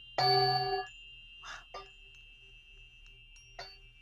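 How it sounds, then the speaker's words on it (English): A single bright metallic ring from a singing bowl sounds and fades, followed by a few softer taps and tones against a steady background hum. "These are bells, and they turn them upside down and they become bowls."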